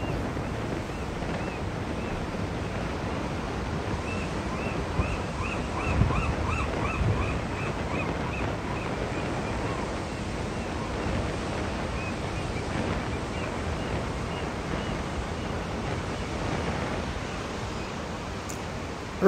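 Ocean surf washes steadily onto a beach in a constant soft roar, with wind buffeting the microphone and no distinct individual wave crashes standing out.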